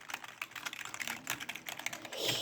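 Rapid, fast clatter of computer keyboard keys being typed in quick bursts during gaming, close and moderately quiet, with no talking.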